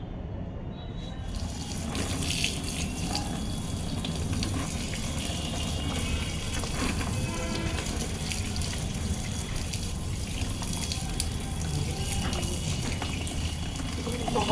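Tap water runs steadily over adenium (desert rose) roots being washed, a continuous close gushing splash with small shifts as the flow hits the roots, and no talking.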